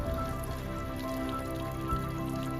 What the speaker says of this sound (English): water from the earth coming out